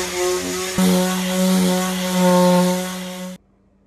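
A mouse sander works along the edges of wooden side panels for an arcade cabinet, giving a loud, steady electric whine whose pitch dips slightly partway through, then cuts off abruptly.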